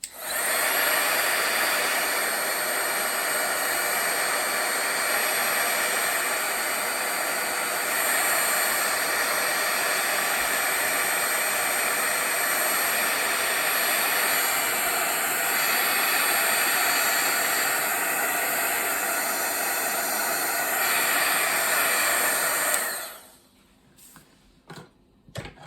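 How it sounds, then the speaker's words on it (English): An embossing heat tool blowing hot air over a handmade card, a loud, steady close-up whoosh held for over twenty seconds before switching off abruptly, followed by a few faint clicks. "I'm going to use my heat tool."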